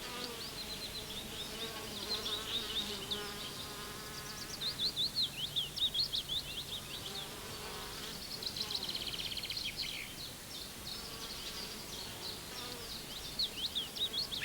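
Bees buzz softly around flowers, their hum rising and falling as they drift closer and away, with faint bird chirps now and then in the background.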